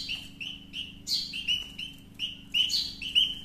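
Bird chicks in a hanging nest chirp close by in a rapid, steady stream of high, thin begging calls, repeating in quick bursts throughout.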